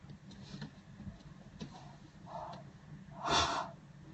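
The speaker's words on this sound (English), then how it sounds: "you guys are going to have to listen to a little bit of my sniffling" A person with a cold sniffles several times through a congested nose, short close breathy snorts spaced irregularly, the last one the loudest, with no talking.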